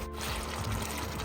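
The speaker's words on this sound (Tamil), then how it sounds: "கொஞ்சம் புளி தண்ணி சேர்க்குறேன்" Tamarind water is poured into a pan of brinjal thokku, a short steady splashing pour that runs close and alone for about a second.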